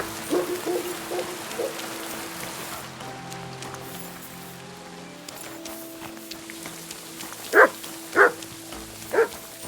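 A dog barks in Kingdom Come Deliverance II amid steady rainfall. A few soft barks come early, then three sharp, louder barks ring out near the end over a faint ambient hum.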